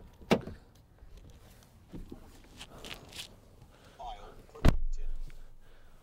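A 2013 Range Rover Sport 3.0 SDV6 HSE Black Edition door slams with one loud, close thud near the end, after quieter knocks and shuffling sounds.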